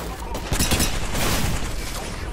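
Rapid gunfire in an Apex Legends Arenas ranked match, a dense, steady barrage of shots that holds loud and close for the whole stretch, with a small swell partway through.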